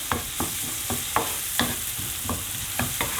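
Garlic and onions frying in a pan over a raised gas flame, a steady hiss with rhythmic spatula scrapes and taps about every third of a second, close and without talk.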